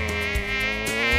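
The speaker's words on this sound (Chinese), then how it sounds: "就好像有一只苍蝇" A fly buzzes in a continuous close, droning whine with steady harmonics, loud and alone for about a second.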